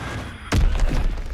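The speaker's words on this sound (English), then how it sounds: "Enemy bomb incoming. Get to cover." Bomb explosion in Call of Duty WW2, a single sudden heavy boom with a sharp crack onset followed by a low rolling rumble, fairly loud over background game noise.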